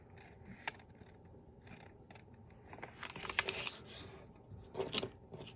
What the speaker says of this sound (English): crease the paper across the center